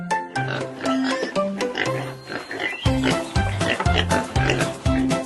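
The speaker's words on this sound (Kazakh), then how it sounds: "Дұрыс, бұл шошқа." A pig oinks and grunts in a rapid series of short, nasal snorts, loud and close, with no talking.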